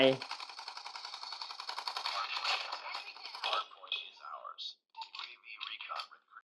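Rapid bursts of electronic gunfire from a shooting game on a nubia Neo 3 5G phone rattle steadily for a few seconds, then give way to scattered softer clicks and blips at low volume.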